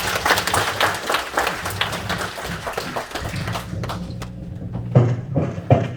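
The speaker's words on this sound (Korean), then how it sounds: "큰 박수 해주시기 바랍니다." Audience in a church hall auditorium at a Korean special lecture and prayer meeting applauds, dense clapping that thins toward the end into a few scattered claps and thumps.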